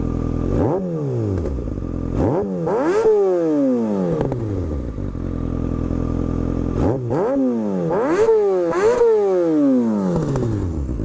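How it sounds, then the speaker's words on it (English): A warmed-up motorcycle engine revs hard several times, each burst climbing and then falling away, loud and close with no talking. "The bike is warm. I rode it over here, obviously, so I'm not revving it while it's cold."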